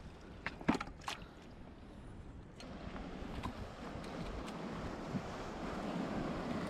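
Ocean tide waves washing in at a seashore, a steady broad rush of surf mixed with wind buffeting the microphone, a few sharp clatters early on, with no talking.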